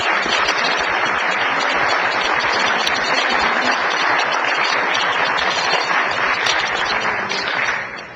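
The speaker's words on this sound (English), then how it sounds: "Let's congratulate Mark for 30 years of service to our community with a round of applause." A council meeting audience gives a round of applause for a staff member's 30 years of service, heard as dense, steady clapping from many hands that fills the room for about eight seconds before tapering off.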